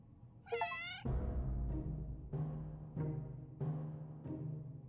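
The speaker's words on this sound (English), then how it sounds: "We got a cat." A cat meows in the video game 60 Seconds Reatomized: one high, rising meow near the start, then a steady run of louder repeated game sounds with regular pulses, no talk.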